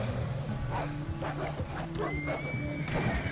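Horse in the video game Red Dead Redemption 2 giving a loud whinny over steady game ambience, with hoof clatter and other in-game sounds close behind it.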